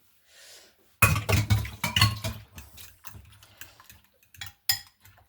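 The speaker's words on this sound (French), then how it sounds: "je vais mélanger des poivrons, tout simplement" Bell peppers being mixed in a bowl for a Japanese omelette: a burst of clinking and scraping utensil strikes against the bowl, irregular and close, thinning into sparse taps before one last sharp knock.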